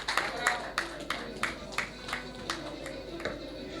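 Audience clapping at a film music and teaser launch event, a string of sharp, fairly steady claps mixed with some background chatter.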